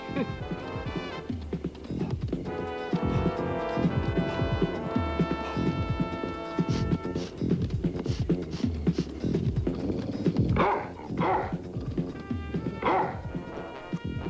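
Dogs bark and yip with a few whimpers, mixed into a dense, continuous bed of music throughout.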